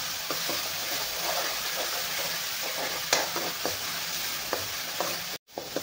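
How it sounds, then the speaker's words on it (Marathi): Masala roasting in oil for a Maharashtrian vegetable curry, with a continuous loud sizzle and scattered ladle scrapes as it is stirred, ending in a brief cut of silence, no talk. "मग आपला मसाला चांगला भाजून द्यायचा आहे आपल्याला"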